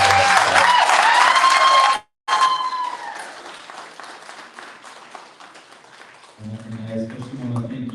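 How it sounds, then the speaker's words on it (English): Audience applause for panelists at a 2023 Republican primary debate and town hall, a short burst of clapping that drops out, returns and fades thinly before a voice speaks at the end. "Can we just get a quick round of applause for all of our panelists?"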